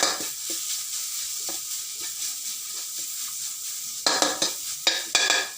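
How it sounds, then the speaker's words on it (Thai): Thai curry paste dry-roasted in a pan while cooking a jungle-style curry with buffalo tendon, giving a soft steady sizzle with occasional stirring scrapes that grow louder and more frequent near the end. "คั่วพริกแกงครับ"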